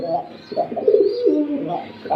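A pigeon coos in repeated low, throaty rolls, close by, with faint background noise.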